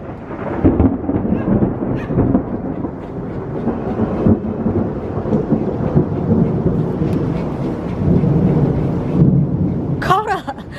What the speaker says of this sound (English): it's getting a thunderstorm